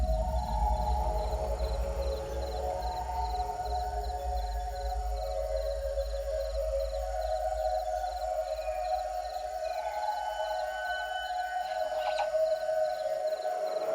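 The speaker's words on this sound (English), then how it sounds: "After sunset, the katydid, a relative of crickets and grasshoppers, finally comes out of hiding." A katydid calls through the Amazon rainforest at night, a steady, continuous insect drone layered with other night chorus sounds, loud and sustained throughout.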